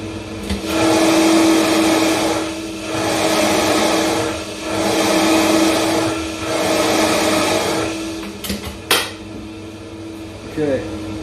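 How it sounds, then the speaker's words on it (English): A blender running sealed inside a sound-reducing box, giving a steady muffled whirring drone that swells and dips in several pulses before cutting out, followed by a few latch clicks. "What I'm going to do now is turn the blender on, seal the door shut, and then hit the switch on the wall to activate it."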